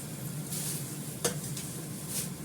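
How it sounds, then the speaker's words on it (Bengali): Eggplant frying in a pan gives a quiet, steady sizzle, with the faint scrape and clink of a utensil pushing the pieces aside. "বেগুনটা সরিয়ে দিই।"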